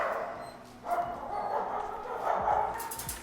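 A small, fearful dog barks and yips in a few sharp bursts, close and fairly loud against a room background.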